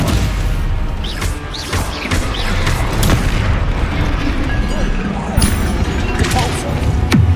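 Stupefy spells cast during a Hogwarts Legacy duel, a loud, busy run of booming blasts, crashes and sharp impacts at irregular intervals, with voices calling out over the fighting.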